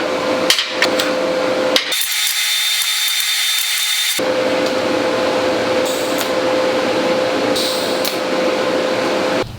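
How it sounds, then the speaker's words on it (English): Welding on a steel kitchen cart frame, a continuous loud crackling buzz of the arc that breaks off briefly and then resumes, close and steady with no talk. "Now I'm going to go ahead and flip this over and fully weld the other side."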